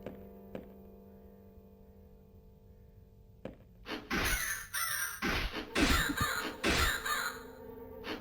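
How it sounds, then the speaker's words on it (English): Crows caw in a flock: a quiet stretch with a couple of soft knocks, then loud, overlapping caws burst out repeatedly through the second half, close and harsh. "That's a lot of crows."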